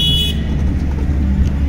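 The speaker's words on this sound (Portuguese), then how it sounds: "Eu também tenho buzina." A car horn sounds in a short loud blast at a street preaching scene, with steady traffic rumble continuing underneath.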